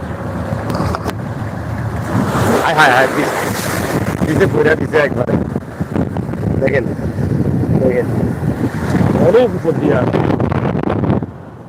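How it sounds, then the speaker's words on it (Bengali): Wind buffets the microphone over rushing sea waves aboard a moving boat on the Bay of Bengal, loud and steady throughout. "আমি আপনাদেরকে ঢেউগুলো একটু দেখানোর চেষ্টা করি কতটুকু উচ্ছে দিয়ে আসে ঢেউগুলো"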